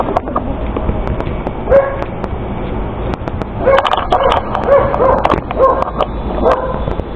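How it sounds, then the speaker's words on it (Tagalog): A dog outdoors near houses barks and yips in short bursts, with whimpers mixed in. The calls come irregularly, fairly close and loud, against background noise. "Soy, may aso dyan, Soy."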